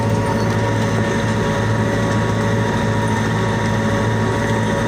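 Basak seed planter towed behind a tractor, bouncing and rattling over a rough field with compaction ruts, a steady loud clatter over low engine drone throughout, no talk.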